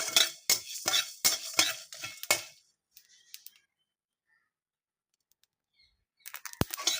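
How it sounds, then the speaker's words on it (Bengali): Whole spices with cinnamon dry-roasted in a pan, giving quick clinking, scraping stirs up close for a few seconds, then near silence, then a brief burst of clatter at the end. "তো এগুলো এখন আমি শুকনো খোলায় ভেজে নেব। তো শুকনো খোলায় এখন দিয়ে দিচ্ছি।"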